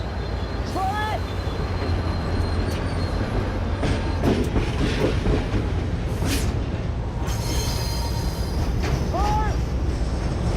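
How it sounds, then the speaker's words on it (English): A video game train rumbles steadily along the tracks, with high wheel squeals rising now and then over the continuous rolling noise. "Stop the train."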